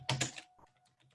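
Quick burst of clacking keystrokes on a computer keyboard while a search is typed, two loud strikes followed by lighter, softer taps, close and alone without talk.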